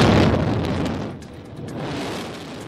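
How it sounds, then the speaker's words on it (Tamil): Explosives bring down the twin towers in Noida in a demolition, with a loud, heavy blast that settles into a long, rolling rumble. The rumble fades slightly midway and then swells again. "நொய்டாவில் விதிகளை மீறி கட்டப்பட்ட இரட்டை கட்டடங்கள் வெடிவைத்து தகர்ப்பு."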